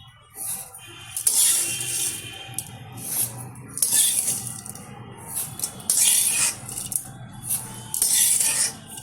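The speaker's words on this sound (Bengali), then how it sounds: "এখন আমি ভেজে রাখা সিমুইটা এর মধ্যে দিয়ে দেবো" Fried vermicelli going into a pot of milk boiling with date-palm jaggery, with clinks of a metal spoon against the pot and splashy, liquid bursts in several uneven waves, close and fairly loud.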